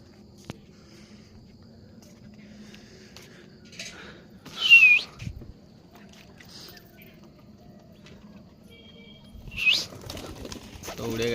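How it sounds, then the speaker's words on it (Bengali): Pigeons, including Madras breeds, flap their wings as they take off outdoors near bamboo, giving two short bursts of wing flutter about five seconds apart over a quiet background. "তো ওদেরকে উড়িয়ে দিই, কেমন উড়ে দেখা যাক"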